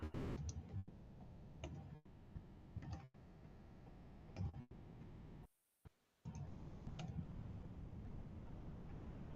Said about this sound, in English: So I'm just clicking on each element, hitting the center element.